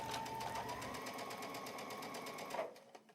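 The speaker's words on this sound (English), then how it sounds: "And then we'll head to the sewing machine and stitch." A sewing machine stitches quilt triangles along a marked line in a fast, rapid rhythmic whir, running close and steady before stopping with a couple of faint clicks.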